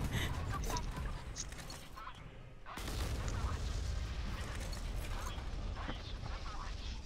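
Dense, continuous naval battle noise in the game Modern Warships with heavy booming cannon blasts and mechanical clatter, layered under voices, briefly dipping before the barrage resumes.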